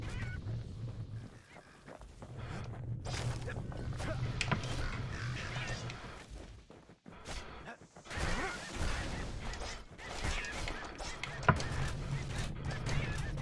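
Harsh honking, squawking bird calls in the video game Bastion come in bursts over a rumbling, busy background, with brief crashes and dropouts between the noisy stretches.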